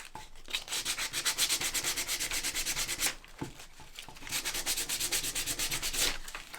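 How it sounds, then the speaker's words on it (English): Hand sanding distresses the painted wooden edges of a candle holder for a tiered riser, heard as two close bursts of rhythmic, rasping back-and-forth strokes separated by a short pause. "Distressing the edges here."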